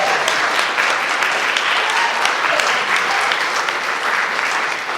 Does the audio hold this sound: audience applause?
yes